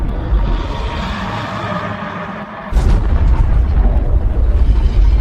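Nuclear weapon blasts used as a last resort in a war against colossal giants falling to Earth: a loud, sustained roaring rumble with a sharp new boom about halfway through that swells the low roar again.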